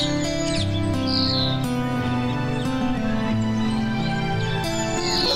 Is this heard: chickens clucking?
no